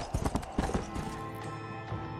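Horse hoofbeats clip-clop in a quick galloping rhythm while riding in the video game Red Dead Redemption: Undead Nightmare, close and steady with a faint whinny, no talking.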